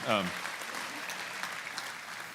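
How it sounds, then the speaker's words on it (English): A brief round of audience applause, a steady wash of clapping that follows a short burst of speech at the start. "All right, how about one more round of applause just for their willingness to be up here"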